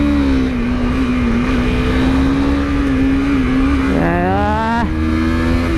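A 2018 Honda CBR250R single-cylinder motorcycle engine drones loud and close at steady revs, then climbs sharply in pitch as it accelerates near the end, with no talk.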